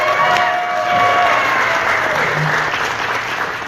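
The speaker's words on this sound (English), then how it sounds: "Put your hands together for Bill Skaggs." Sustained audience applause and crowd noise greet an expert guest introduced on a talk show about ranking drag queens, a dense, steady clapping wash lasting several seconds.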